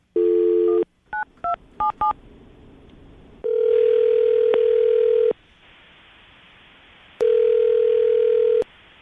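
On a radio call-in segment, a phone line gives a short tone, then a quick series of keypad dialing beeps, followed by two long, steady ringback tones separated by a pause, clear and up front.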